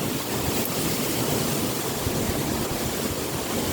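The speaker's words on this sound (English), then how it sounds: "It's quite windy." Steady roaring wind buffeting a microphone in a winter garden, a dense rumbling whoosh that fills the whole clip with no voices.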